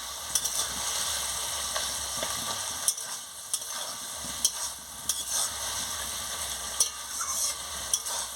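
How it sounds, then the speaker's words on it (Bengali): A ridge gourd, snake gourd and potato chochchori is stirred in a pan: steady frying sizzle with repeated sharp spoon scrapes and clicks against the pan at an uneven rhythm, close and fairly loud. "এবারে আমি ভালো করে একটু নাড়িয়ে নিচ্ছি।"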